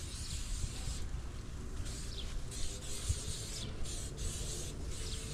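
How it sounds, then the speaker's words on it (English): Steady hissing spray of vegetable oil in short repeated bursts onto a grill, close and fairly quiet, with a low rumbling background and no voices. "I'm going to spray it here now"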